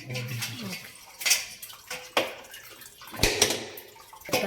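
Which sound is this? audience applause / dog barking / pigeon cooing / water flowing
water flowing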